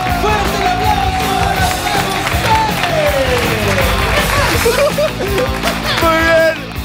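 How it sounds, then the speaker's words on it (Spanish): A live comedy show audience claps and cheers, with shouts and voices mixed into the crowd noise that runs throughout the clip. "¡Fuerte el aplauso!"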